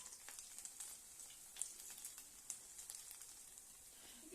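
Potato pancakes sizzle gently in a hot pan, soft crackling and scattered pops over a steady frying hiss, no voices.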